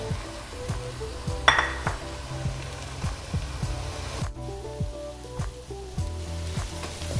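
Apple gourd and mutton curry fries in a pan with a steady, close sizzle, punctuated by repeated clinks and scrapes of a spoon against metal as the mixture is stirred.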